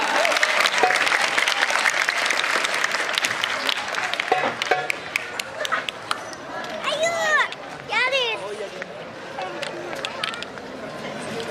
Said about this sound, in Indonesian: Sekali lagi aplaus yang meriah untuk Marawis Darul Quran